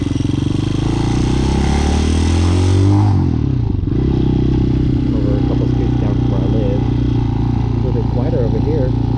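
Motorcycle ridden outdoors on a nice day through a residential street, with a steady engine drone and low rumble that shifts gear around three seconds in, plus wind and rattle, close and loud throughout.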